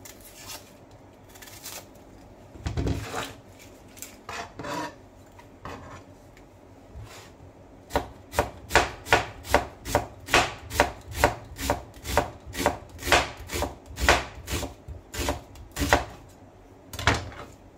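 A knife thinly slices red onion on a board, a few scattered cuts giving way to a quick, steady run of crisp close chops, no one speaking.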